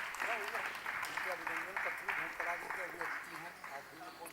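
An audience applauds at a Kathak dance festival, sustained rhythmic clapping that rises and falls in waves, heard at moderate distance with no talk over it.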